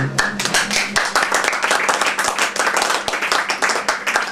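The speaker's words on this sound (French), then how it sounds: "vous pouvez l'applaudir" An audience applauds a performer, a close, brisk burst of many hands clapping at an even rhythm throughout, with a voice briefly talking at the start.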